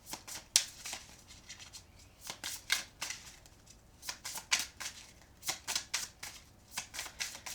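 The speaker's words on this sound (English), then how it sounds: "As I was shuffling" Tarot cards shuffled by hand, a close run of quick papery riffles and slaps in irregular bursts, fairly quiet with no talking.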